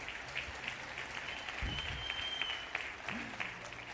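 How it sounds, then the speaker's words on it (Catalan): An audience at the 61st Paper Dress Gala in Mollerussa gives the organizers a strong round of applause, with loud, continuous clapping and a few deeper thumps. "demanar un fort aplaudiment a l'organització"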